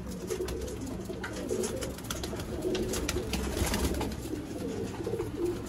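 Sialkoti pigeons coo steadily and close by, a continuous layered chorus of soft throaty calls with some wing and cage rustle, and no talking.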